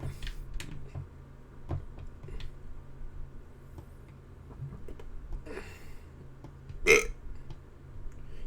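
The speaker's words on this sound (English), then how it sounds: "Yes, I did the burp." A single loud burp near the end, close to the microphone, over quiet room noise and scattered keyboard clicks.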